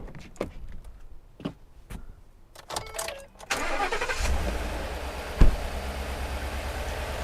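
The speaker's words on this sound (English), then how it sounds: "Now he's going to go start the engine" Car engine starting during a battery crank test, with a few sharp clicks and clunks, then the starter cranks and the engine catches into a steady, rumbling idle, close and loud, with no talking.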